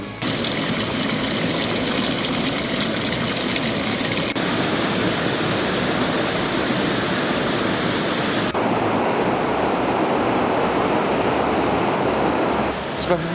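A waterfall and river rush continuously near a beach outside Athens, a loud, dense, unbroken roar of moving water heard close up.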